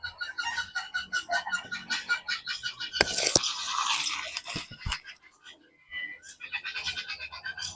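A 20-inch palas blade dragged in a shave test, producing quick rhythmic scraping strokes with a sharp knock midway, then a brief pause before the scraping resumes.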